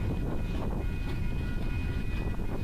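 A Union Pacific train on the Evanston Subdivision gathers speed beyond a control point, a steady low rumble heard from a distance with no talking.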